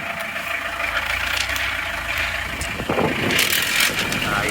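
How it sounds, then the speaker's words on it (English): A motorhome engine idles with a low, steady rumble heard at the exhaust, mixed with gusting wind noise on the microphone and a few faint knocks. "Here's the exhaust."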